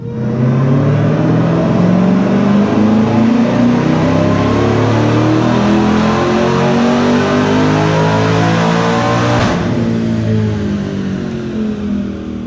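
A Dodge Durango Hellcat engine running on E85 with a Livernois S1025 setup revs hard on a dyno, a loud, continuous, climbing roar that builds steadily before cutting off sharply near the end.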